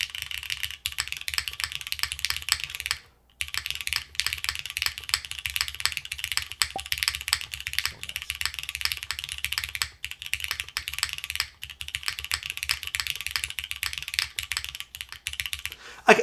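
Steady, close typing on a mechanical keyboard fitted with partly PBT keycaps, a continuous run of crisp clacks with only one brief pause, no talking.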